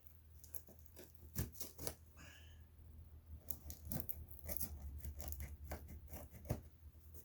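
Tiny scissors cut open plastic packaging holding a replacement wand for a Shark Apex vacuum, giving a series of sharp, close snips and crinkles in uneven bursts over a quiet background.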